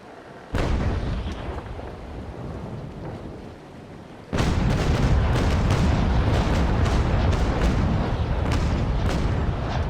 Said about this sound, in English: Pretty nice broadside.